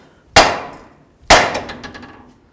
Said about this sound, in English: Next we're going to bonk right here on the knuckle with our hammer.